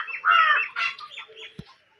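A chicken clucks at a Tamil family home during Pongal, giving a few loud, close clucking calls in quick succession that trail off into softer clucks, with a short thump near the end and no talk.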